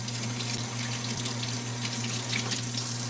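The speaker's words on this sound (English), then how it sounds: "So now I'm going to wash my blueberries." Tap water runs steadily into a kitchen sink while blueberries are washed, a close, continuous splashing rush with a low electrical hum beneath and no talking.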